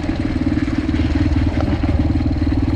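A TTR 125L dirt bike engine with an aftermarket exhaust runs loud and close, a rough, bassy, throbbing exhaust note that pulses steadily with slight revving.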